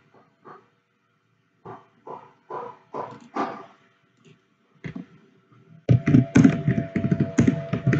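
Someone types a reply email in Gmail on a computer keyboard, giving short bursts of close key clicks with pauses, then a denser, louder stretch of tapping toward the end.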